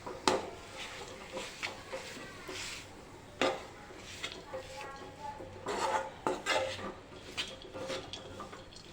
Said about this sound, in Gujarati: વસ્તુ બરાબર મિક્સ કરી લઈશું